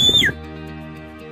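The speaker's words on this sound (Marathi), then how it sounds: "एक मातीची चिमणी आहे ज्याच्यामध्ये पाणी ओतल्यानंतर तुम्ही फुंक मारली असता त्याच्यात विविध" A water-filled clay bird whistle is blown once, giving a short, bright warbling chirp that falls in pitch. It fades quickly into a faint low hum.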